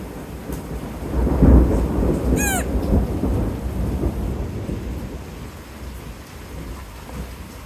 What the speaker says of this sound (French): Ça pète fort. C'est violent.